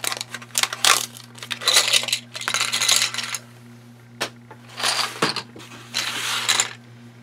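Large 1.5-inch metal binder rings are handled close up, with bursts of bright metallic jingling and clinking in uneven clusters separated by short pauses, no voices.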